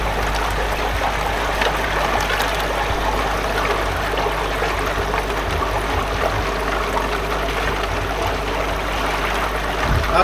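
Water splashing steadily out of a koi pond filter, a continuous close trickle and gush that holds an even level with no break.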